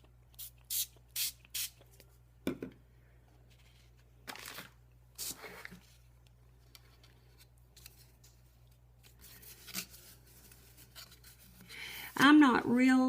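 Short bursts from a spray can coating a craft piece for a travelling tic tac toe set, several separate hisses with pauses between them, followed by rustling and handling noises and a voice at the end.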